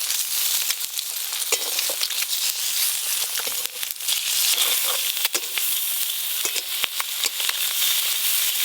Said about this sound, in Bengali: সেদ্ধ করা ডিমগুলো হালকা করে ভাজা হয়ে গেল